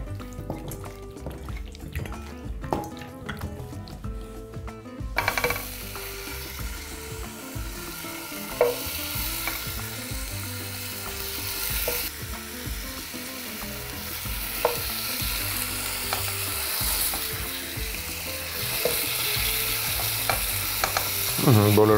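Chicken drumsticks fry in a dry pan with no oil, sizzling and crackling while being stirred and scraped; quieter at first, then a louder, busy sizzle with scattered clicks and taps.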